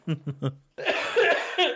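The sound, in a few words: coughing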